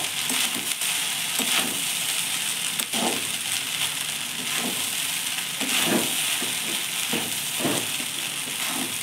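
Spiced food frying in a pan, a steady sizzling hiss throughout with periodic soft scraping and stirring strokes from a utensil, close and moderately loud, no talking.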